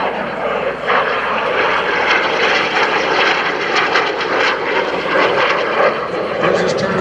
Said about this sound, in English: now there comes the aileron roll